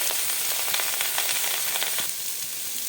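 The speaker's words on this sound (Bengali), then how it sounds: "দিয়ে দেবো ধুয়ে রাখা সবজিগুলো ভালো করে নাড়াচাড়া করবো" Washed greens fry in a hot pan while being stirred, giving a dense, steady sizzle with soft scraping and stirring clicks throughout.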